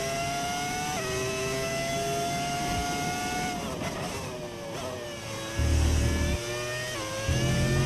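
Formula 1 race car engine from the F1 25 video game, running with a modified engine audio pack, drones steadily at high revs with rising and falling pitch through gear shifts and a couple of louder surges, no talking.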